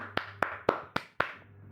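Five sharp hand claps land at a steady, moderate pace over under two seconds, each crisp and close with a quick decaying tail.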